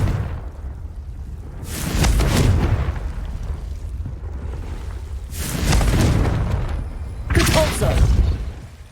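Confringo fire spell blasts in Hogwarts Legacy, three loud booming fiery explosions with whooshing roars, each swelling and fading over a couple of seconds against a steady rumbling background.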